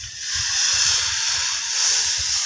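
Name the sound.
hot water poured into cooking chicken, hissing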